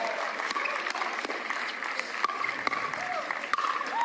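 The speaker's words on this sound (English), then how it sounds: "Oohs and ahs from the crowd." A crowd at a professional pickleball match applauds steadily throughout, a continuous wash of clapping with commentators talking over it.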